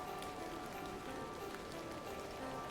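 Steady rain falls in The Excavation of Hob's Barrow, a soft continuous hiss of drops on surfaces holding an even level throughout, with no voices over it.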